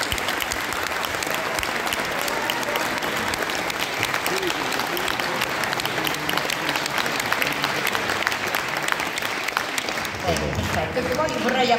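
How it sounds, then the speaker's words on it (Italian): An audience at a Musicambiente school event at Liceo Amaldi in Tor Bella Monaca claps for the student performers. The applause is dense, steady and sustained for about ten seconds, then a voice starts talking as it fades. "un bel applauso ai ragazzi"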